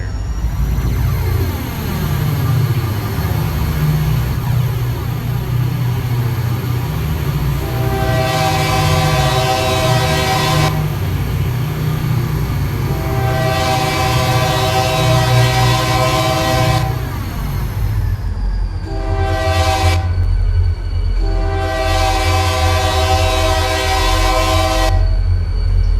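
A locomotive in the railroad game Railroader rumbles steadily along the track, its horn sounding several long blasts and two short ones over the continuous low drone of the train.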